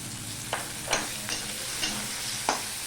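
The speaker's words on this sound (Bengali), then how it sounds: "দিয়ে এই মাছের ডিমগুলো আমি ভেজে নেব" Fish roe fries in a pan with onion and green chili while a spatula stirs and scrapes it, about six distinct strokes standing out over a close, steady sizzle.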